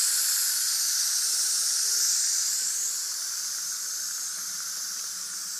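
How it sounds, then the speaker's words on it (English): Steam vents from a Fagor stainless steel 3-in-1 6-quart electric multi-cooker making chowder, a loud continuous close hiss that holds steady and eases off slightly toward the end, with no talking. "We're going to release the steam now again."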